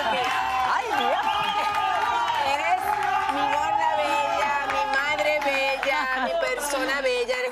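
Studio audience on a Spanish-language talk show cheering and applauding, continuous clapping and whoops mixed with several overlapping voices and shouting at fairly loud level.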